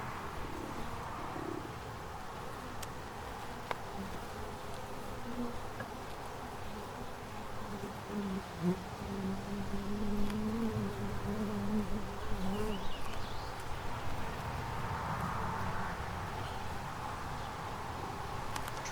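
Honey bees buzz around an open hive during an inspection, a continuous droning hum with wavering pitches as individual bees fly close, swelling slightly louder midway, with no talk.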